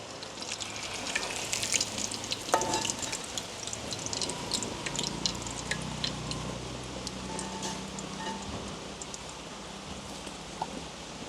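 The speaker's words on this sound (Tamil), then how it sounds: "காளான் பொரியல் நல்லா பொரிஞ்சிட்டு தானே" Mushrooms fry in hot oil in a village kitchen, a continuous crackling sizzle with scattered pops at moderate level throughout, no speech.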